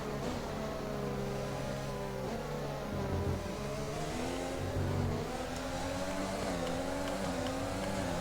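Formula One car engines in the F1 2020 racing game scream continuously near and loud, with pitch rising and falling as the cars accelerate and jostle to overtake.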